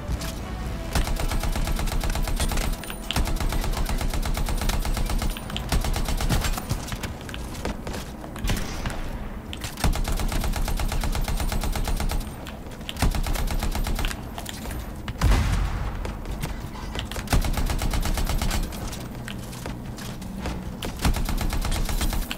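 A really large gun blazes away in Anthem, loud sustained rapid fire with mechanical clatter, broken by a few short pauses before the barrage resumes, with no voices.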